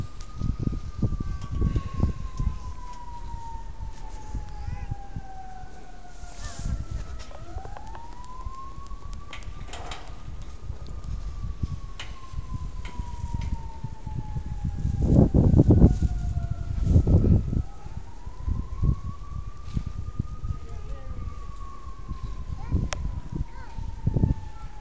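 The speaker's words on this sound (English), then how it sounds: "I hear a siren." An emergency vehicle siren wails on a snowy Chicago street during a blizzard, its rising and falling tone sweeping through several cycles at moderate distance over street noise and passing traffic rumble.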